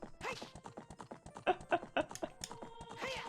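Horse galloping in the video game Ocarina of Time, quick rhythmic hoof clops in a rapid even pattern, fairly close and alone.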